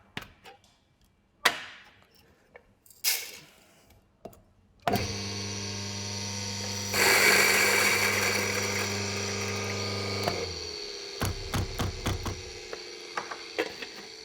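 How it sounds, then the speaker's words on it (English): An EK43 coffee grinder in a Melbourne roastery grinds a 15-gram dose of coffee beans with a steady motor whine and a rising, gritty burr roar for several seconds. It winds down amid scattered clunks and knocks nearby. "Then we're going to come over to our EK43 grinder."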